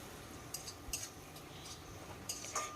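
A spoon stirs ground spices and turmeric in a pan over a low flame for a vegetarian kakrol dish, making scattered metallic clinks and scrapes over a faint background hiss.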